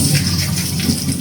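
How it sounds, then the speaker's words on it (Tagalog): Frozen siomai are dropped into water to soak, giving a steady, close wash of splashing and running water that lasts the whole short moment. "Ipababad muna natin sa tubig."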